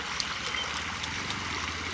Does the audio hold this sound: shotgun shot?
no